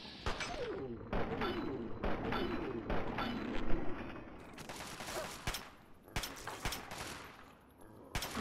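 Rapid bursts of gunfire ring out in Fallout 3, clustered volleys of sharp cracks mixed with chaotic game noise at moderate loudness, with no speech over them.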